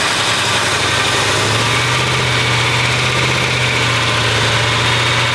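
Engine running on its first start with the throttle being worked, a loud continuous rumbling drone with steady low throbbing that rises slightly in pitch partway through, close up and uninterrupted.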